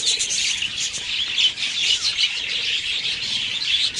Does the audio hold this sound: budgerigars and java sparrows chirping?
yes